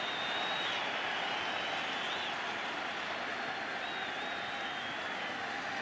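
Stadium crowd at a Phillies World Series baseball game makes a steady, distant wash of cheering and applause, a continuous roar without distinct peaks.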